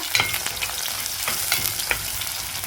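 Garlic and onion fry in oil with mustard seeds, a loud, dense close-up sizzle with light stirring taps throughout a few seconds.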